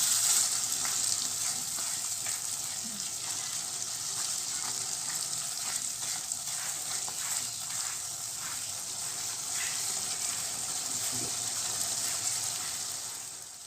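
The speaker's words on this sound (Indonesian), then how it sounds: "Setelah mendidih gini" A pot of soto soup bubbles and sizzles steadily at a rolling boil, a continuous close hiss with small popping bursts throughout.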